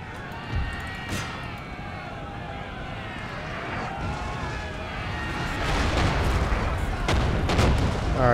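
Cannon and artillery fire in a Napoleon: Total War battle, with booming shots at about 0.6 and 1.1 seconds and heavier rolling gunfire from 6 seconds on, set against a continuous battlefield din.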